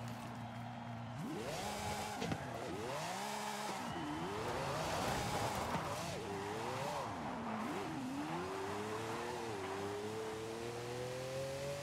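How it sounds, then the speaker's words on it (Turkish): A car drifting in Forza Horizon 5, its tires squealing in long rising and falling wails that bend with the slide while the engine revs loudly and steadily underneath throughout. "Manyak drift atıyor ya."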